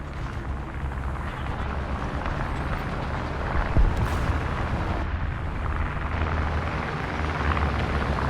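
Rumbling explosions and droning aircraft from enemy bombing in the War Thunder tank game, a steady loud battle roar with one heavier blast near the middle.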